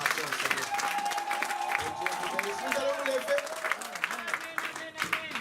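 A church congregation applauding and acclaiming after a sermon, with clapping mixed with cheering voices and shouts that carry on steadily throughout.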